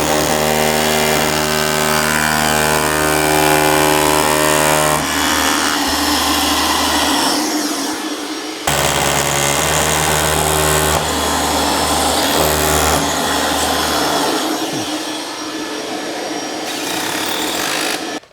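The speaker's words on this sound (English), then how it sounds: "We're gonna drill that deep, and then we know that the hole's deep enough for the fastener" Power drill boring holes into concrete for Tapcon screws while framing walls in a barndominium, with loud close bursts of whirring and grinding separated by brief pauses and shifts in pitch.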